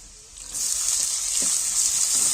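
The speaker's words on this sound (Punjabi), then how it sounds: "ਹੁਣ ਨਾਲ ਹੀ ਆਪਾਂ ਇਹਦੇ ਵਿੱਚ ਪਾ ਦਾਂਗੇ ਪਿਆਜ਼" Garlic sizzles in a hot pan before the onions go in, the frying hiss swelling to a steady, loud, bright crackle. A faint thump of stirring sounds partway through. No one speaks.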